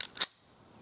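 A Taurus GX4 pistol slide locks back with a single short, sharp metallic click, close up and otherwise quiet.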